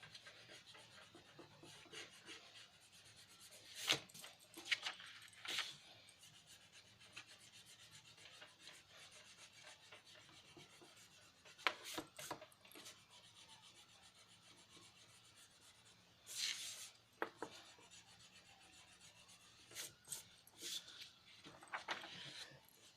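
An eraser rubs on drawing paper in short, scratchy bursts of rasping strokes spread across a quiet, faintly noisy room.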